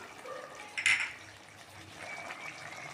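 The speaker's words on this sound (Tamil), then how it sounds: "இன்னும் கொஞ்சமாக தண்ணி சேர்த்துக்கலாம்" A short splash of water is poured into chicken gravy cooking in a pressure cooker with coriander and lemon juice, one brief pour rising out of a quiet kitchen background.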